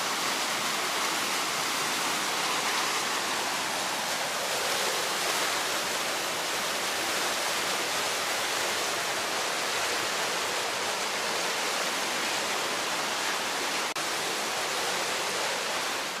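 The River Wharfe rushes through the narrow Strid gorge near Skipton, a loud, steady roar of churning water that fills the whole stretch without a break or a voice.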